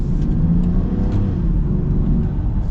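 A new Land Rover Defender with a raised air intake accelerates, giving a loud, steady engine drone and rumble from inside the cabin, with a faint turbo whir and no talking.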